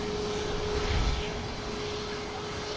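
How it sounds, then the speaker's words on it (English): Pegasus airliner taxiing at an airport, its engines giving a steady, fairly loud roar with a constant hum and no voices. "we have the Pegasus now just heading down Tango"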